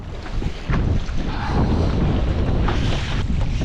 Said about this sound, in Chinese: 吹得有点失温了，哇，帽子都给我吹掉了